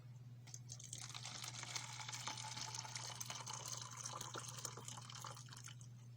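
Boiling water is poured into a Norwegian arctic field ration pouch, a continuous splashing, trickling fill with small drips, close and fairly quiet over a steady low hum.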